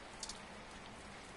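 Rain in the video game 2064: Read Only Memories, a soft, steady patter of falling rain, faint and brief, with no talk.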